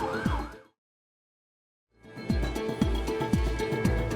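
A wailing ambulance siren, loud and close, cut off by a short silence, then resuming with repeated rising and falling sweeps over traffic noise.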